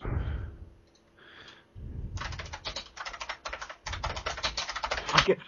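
Fast, clattering typing on a computer keyboard, dense bursts of keystrokes up close after a few quiet seconds, ending with a couple of heavier key hits.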